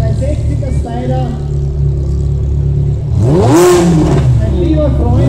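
A Ferrari 360 Spider sports car engine idles, then revs sharply up and back down at a sports car festival in Kitzbühel, loud and close, with someone talking over it.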